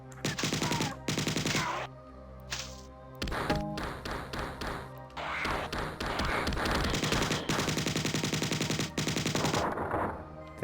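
Alien weapon gunfire in the Marathon video game, loud rapid bursts of shots in several clusters with brief pauses between, close and dominant throughout.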